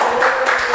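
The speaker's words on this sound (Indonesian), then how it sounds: "Tepuk tangan dulu dong." A short burst of audience clapping at a reseller management seminar, a few quick swells of applause lasting under a second.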